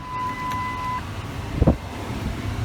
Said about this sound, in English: Truck is still running.